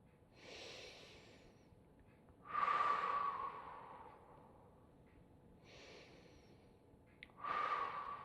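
Slow, deep breaths in a yoga pose: four audible breath cycles, soft breathy inhales alternating with stronger hissing exhales, close and quiet with no talk.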